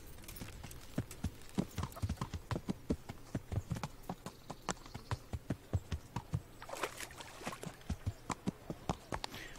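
A horse walking on a road in the medieval game Kingdom Come: Deliverance, steady clip-clop hoofbeats in a regular rhythm, close and clear, with no talking.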